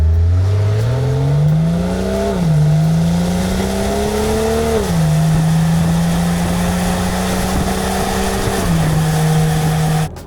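A car drives and accelerates through its gears, the engine drone rising in pitch and dropping at each of several shifts, loud and steady as if recorded from a mount on the outside of the car.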